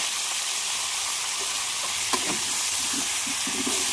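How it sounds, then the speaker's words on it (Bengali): New potatoes fry in a pan, a loud, continuous sizzle and hiss with a few soft stirring scrapes and knocks in the second half. "আলুটা ভেজে নিচ্ছি"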